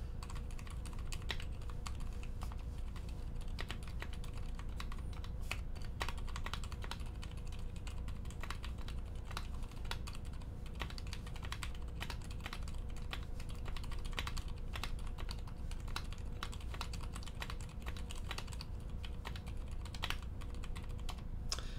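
Soft, rapid keystrokes tap out a continuous typing run on a Zephyr keyboard with lubed Healios silent switches and GMK keycaps, muted and close in a quiet room, without speech.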